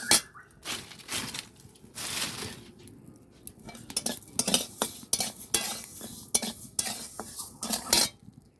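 Cooked Gobindobhog rice is scraped and poured from a pan onto a plate, giving a run of close clattering metal scrapes and taps with soft grainy rustles between them, fairly loud and irregular, with no talking.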